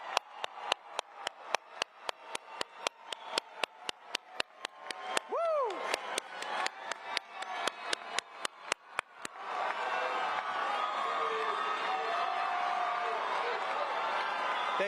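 Graduation ceremony crowd in the stands applauding families: a dense, loud burst of clapping with sharp hand claps in the foreground, then swelling into sustained applause and cheering, with a brief whistle.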